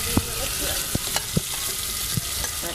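Chopped onions frying in a pan over a wood-fired stove, a loud, dense sizzle punctuated by regular scraping and knocking of a spoon stirring the pan.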